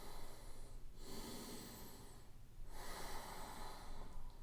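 A slow, audible exhale through the nose during a yoga forward fold, two breathy breath sounds separated by brief quiet, close and soft.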